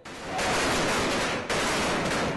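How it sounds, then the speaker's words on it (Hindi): Political party workers celebrate in the streets with fireworks after an election win. Dense, loud crackling bursts of firecrackers pop continuously in close rapid-fire volleys, like strings of firecrackers going off. "सड़कों पर आकर जमकर वो आतिशबाजी कर रहे हैं"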